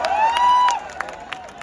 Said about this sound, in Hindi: जोरदार तालियां फॉर श्रीवल्ली।